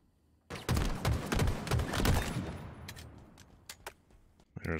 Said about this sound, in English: There was two people shooting at me